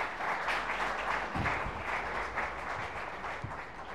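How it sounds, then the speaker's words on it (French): A church congregation applauding, a steady wash of many hands clapping filling the room at a fairly even level, with no talk over it. "Vous pouvez vous asseoir, on peut acclamer pour les frères."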